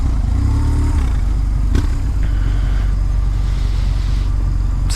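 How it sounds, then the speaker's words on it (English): A nimble scooter threads through London traffic, its engine a steady close drone mixed with surrounding car and motorcycle noise and a brief clatter partway through. "That's a scooter right there."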